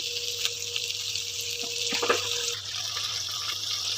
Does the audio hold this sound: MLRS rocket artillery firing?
no